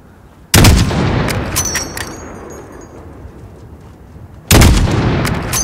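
Two loud, close rifle shots fired in the Call of Duty Modern Warfare campaign, each a sharp crack followed by a long echoing tail, spaced about four seconds apart.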